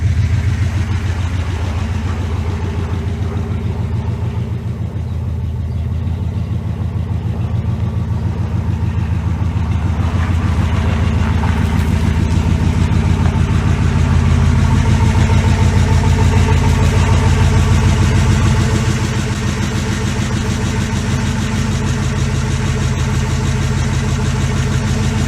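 A Hemi-engined truck idles loudly and steadily close by, its deep rumble thickening partway through before settling again, with no voices over it.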